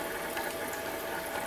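A DIY reverse osmosis machine flushing water gives a steady, continuous rushing hiss of flowing water with a pump-like drone, close and fairly loud throughout.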